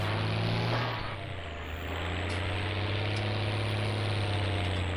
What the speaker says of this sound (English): This tractor manages up here a little bit better than the other one.